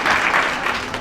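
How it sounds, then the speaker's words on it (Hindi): Audience at a Hindi kavi sammelan poetry gathering breaks into loud, dense applause, a close burst of clapping that holds steady for about a second. "एक बार जोरदार तालियां"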